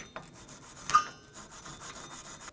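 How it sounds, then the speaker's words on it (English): A wire brush scrubs rust off the rear brake hub of a 2011–2015 Kia Sorento, giving short, faint rasping strokes with one sharper scrape partway through, close up and with no talking. "You can use a wire brush. Just get rid of some of that rust."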